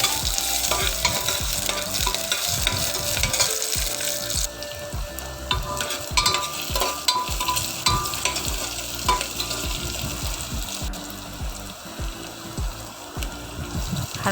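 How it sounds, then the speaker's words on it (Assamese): Onions sizzle and fry in hot oil in a pan together with dried red chillies and five-spice seeds, with a steady loud crackle and repeated scraping stirs of a spatula throughout. "এইখিনি অলপ সময় ভাজিম।"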